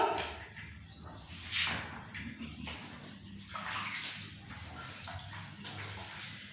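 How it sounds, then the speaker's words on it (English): A pineapple being washed under running water, splashing and rubbing in uneven bursts at close range, moderately loud with no talk. "So we are going to wash a pineapple."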